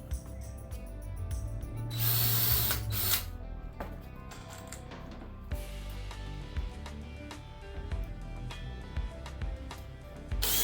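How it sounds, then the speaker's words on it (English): A power drill pre-drills holes for 2-inch deck screws in wood while a camper door is rebuilt, with a loud burst of whirring near two seconds and then intermittent bumps, clicks and handling noise. "Pre-drill it so they don't split, because you don't want to split the ends."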